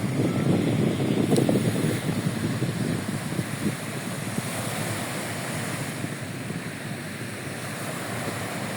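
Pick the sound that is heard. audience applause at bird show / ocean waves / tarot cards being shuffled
ocean waves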